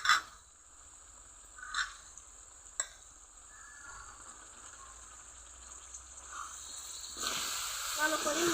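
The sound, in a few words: coriander leaf paste added to spices frying in oil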